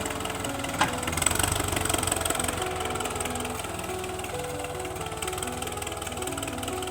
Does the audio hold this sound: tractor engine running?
yes